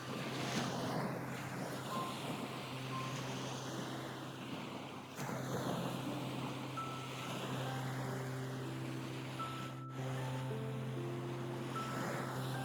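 Swirling water of a cold, deep strait in Greenland: a steady, wide rush and churn of moving water with wind across the microphone, continuous and fairly distant, with no voices.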